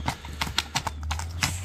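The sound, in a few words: horse hooves clip-clopping, Karabair horse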